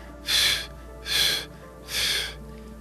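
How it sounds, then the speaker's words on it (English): Three quick, evenly spaced breathy exhales close to the microphone, each a short soft rush of air, during a guided energy session. "3 quick exhales."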